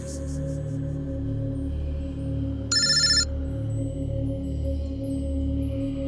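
A mobile phone rings in one short, bright burst just under three seconds in, over a steady low droning background.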